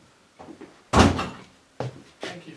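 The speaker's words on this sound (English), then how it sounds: "Close the door behind you." A door is pulled shut with one solid thump after a few soft shuffling noises, followed by a couple of quieter knocks and rustles close by, with no one talking.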